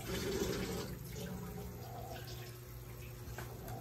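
Water being poured into a pan of chop suey with bell pepper to make broth, a steady splashing, gushing pour close by that runs continuously throughout.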